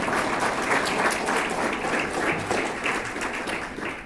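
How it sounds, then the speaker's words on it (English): An audience at a college football press conference applauds a winning program, steady, loud clapping sustained throughout without a break. "So let's give our program a round of applause"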